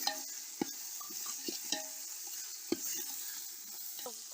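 Chili powder and roasted spices frying in oil for a village-style rabbit curry, with a soft steady sizzle and a few sharp clinks of a spoon against the pan.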